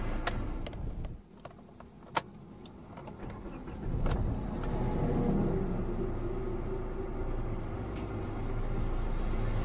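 A Hyundai Creta 1.4 S Plus is started from inside the cabin: a few clicks and a short crank, then the engine catches and settles into a steady, close idle rumble.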